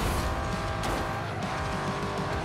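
Porsche Macan S racing in the mobile game Ace Racer, a steady loud engine roar with tire noise and skidding running continuously throughout, no talk.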